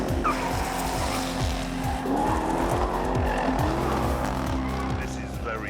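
Jaguar XE Project 8 sports saloon driven hard, engine revving up and down through repeated gear changes while tyres squeal, loud and close, with a voice speaking over it.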